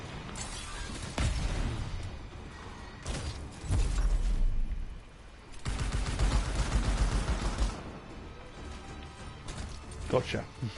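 Rapid bursts of gunfire from the video game Anthem, loud and repeated in several volleys, with short gaps between them and game sound effects around.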